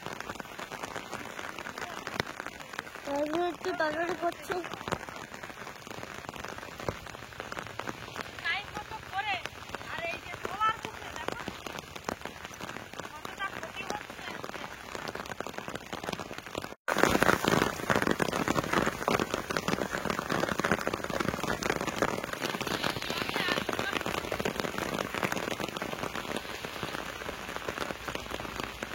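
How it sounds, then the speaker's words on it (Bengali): Rain patters down on a home potato garden during the harvest as people talk briefly; the shower becomes a sudden heavier, steady downpour about halfway through. "আর তো বৃষ্টি শুরু হয়ে গেছে"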